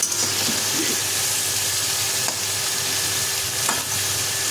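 Whole spices, panch phoron and dried red chillies, fry in hot oil with a steady close sizzling hiss and a few faint crackles, no voices over it.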